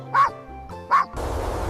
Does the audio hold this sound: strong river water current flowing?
no